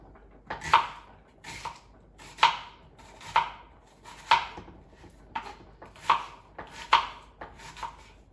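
A knife chops an onion into pieces on a board in a home kitchen, giving about a dozen crisp, close knocks in an uneven rhythm, each with a short bright crack, with no talking.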